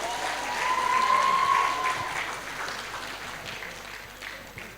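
Audience applause welcoming a moderator to the stage at an embassy-hosted general lecture, a soft, fairly distant patter of clapping that swells briefly and fades, with a faint tone running through it.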